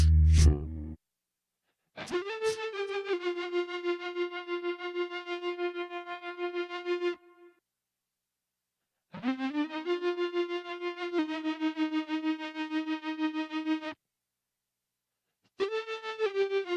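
Long sustained distorted synth-vocal tones from a Roland SP-505 sampler play in separate phrases, buzzy and harmonically rich, with short silent gaps between them.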